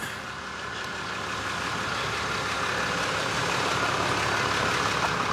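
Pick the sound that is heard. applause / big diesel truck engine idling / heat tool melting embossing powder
big diesel truck engine idling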